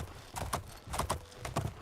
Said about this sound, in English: This is indeed our high horse of Shadowmere